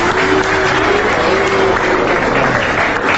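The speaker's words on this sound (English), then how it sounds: "We came out to support y'all and we're getting booed." A live audience lets out a loud, sustained wall of crowd noise with booing, steady and enveloping throughout a short burst.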